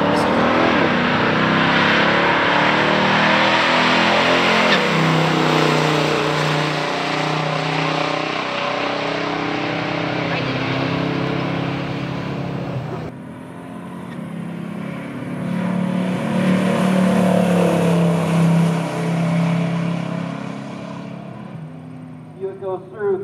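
Loud engines of a 1970 Buick GSX Stage 1 455 automatic and a 1971 Plymouth Duster 340 drag racing roar and rev continuously, with a sharp change partway through as another burst takes over; a voice talks underneath.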